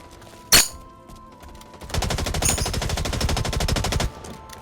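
Gunfire in the shooter game Blacklight Retribution: a single sharp shot, a short pause, then a rapid automatic burst of about two seconds that stops abruptly, loud and close with no talking.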